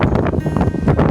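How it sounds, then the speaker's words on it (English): Strong wind buffets the microphone outdoors in Marigot, St. Martin, a loud continuous low roar with gusty swells, heard on its own without speech. "of course it's windy"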